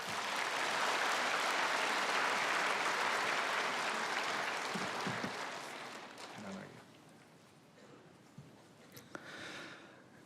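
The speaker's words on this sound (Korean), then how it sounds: "우리 이현우 형제님 나올 때 박수로 환영하겠습니다." A church congregation gives soft, distant, sustained applause to welcome a speaker for a testimony. The clapping trails off after about six seconds into a hushed hall with a few faint knocks.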